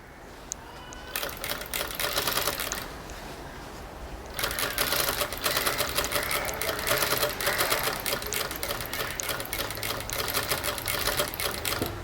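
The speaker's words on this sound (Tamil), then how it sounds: "அது வரைக்கும் நம்ம டேப்பை தைக்கணும்." Sewing machine stitching tape onto a jute sling bag, running in steady loud mechanical bursts with a brief pause after the first second and a longer drop around three to four seconds before it resumes continuously.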